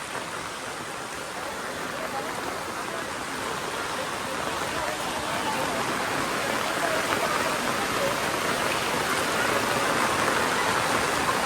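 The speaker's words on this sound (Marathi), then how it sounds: "खतरनाक पाऊस पडता." Heavy rain pours down steadily in a dense, hissing wash near a village market. It grows slightly louder over time.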